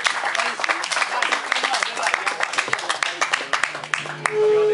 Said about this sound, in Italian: fategli un applauso, su, incoraggiatelo pure